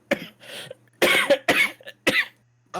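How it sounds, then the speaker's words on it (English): A person coughs in repeated harsh bursts, several close, loud coughs with short pauses between them and no talking. "Is my cough distracting?"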